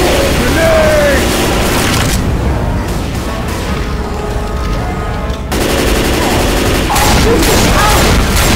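Loud, nearly continuous gunfire and booming explosions from the Left 4 Dead 2 zombie shooter during a Tank attack, dense bursts throughout with in-game voices shouting over the chaos.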